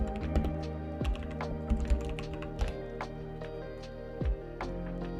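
Keys clatter on a computer keyboard as a search is typed into a web browser, an irregular run of close, crisp taps and thunks over a faint steady hum, with no talking.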